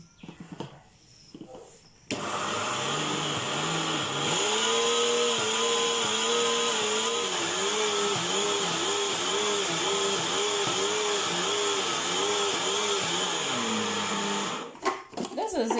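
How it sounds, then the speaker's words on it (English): A blender grinds dried corn into flour, starting with a sharp jump to a loud, high motor whine that wavers as the kernels churn, then cuts off near the end, with quiet surroundings before and after. "We'll grind it again for the third time"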